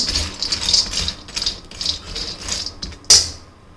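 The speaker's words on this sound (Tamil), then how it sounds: "இப்போ முந்திரி பருப்பு போட்டுக்கலாம்" Cashew nuts tumble and rattle in a dry pan with no oil, giving a steady gritty clatter of stirring and scraping, with a sharp clink near the end.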